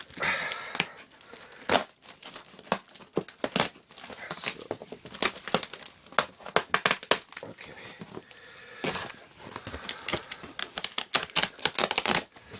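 Packing tape ripped repeatedly off a cardboard parcel of military surplus, a dense run of sharp tearing and crinkling bursts, close and loud, with brief pauses between pulls.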